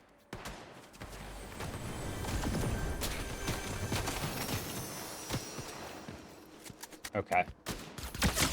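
Scattered gunfire in the video game Fortnite, a stretch of rapid shots with a few sharper cracks toward the end, mixed with other game noise and a short spoken word.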